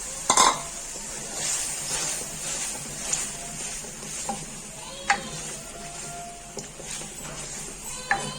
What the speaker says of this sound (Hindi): आलू को अच्छे से फ्राई कर लेंगे, अच्छे से भुनाई करनी है ताकि आलू हमारे गल जाएं